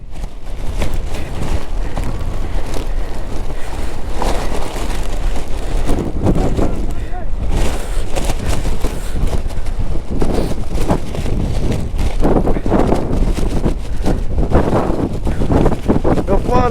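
Strong wind buffets the microphone throughout during a rainy monsoon ride in Chikmagalur, a loud, continuous roaring rumble with gusty surges and no clear speech.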